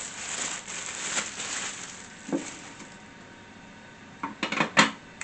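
Knife slicing olive bread on a board, giving a few soft scraping and crackling strokes of the crust, with a cluster of sharper clicks and taps near the end, fairly close and quiet.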